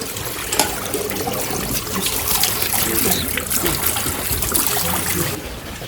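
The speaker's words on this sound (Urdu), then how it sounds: "یہ چشمہ ہے اور اس سے پانی نکل رہا اور لوگ اس سے پانی پی رہے ہیں" Spring water at the Afrasiab spring in Samarkand pours and trickles steadily and loudly close by, a continuous splashing flow that fills the whole stretch with faint background sounds.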